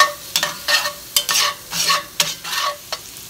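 Chopped onions frying in a pan as garlic goes in, with repeated scraping stir strokes rising over a steady sizzle at close range, no voices present.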